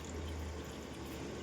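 Water poured into a container while a sugared drink is made, heard as a soft, steady, low gush that stays faint and continuous with no talking.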